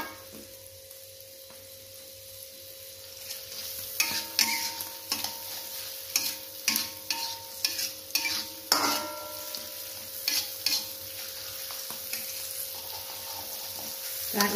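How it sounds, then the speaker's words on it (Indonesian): Sliced onion and a little red chili are sautéed in a pan, with a low steady sizzle beneath a run of sharp scraping and tapping strokes from a spatula, close by and irregular. "Ditumis dulu"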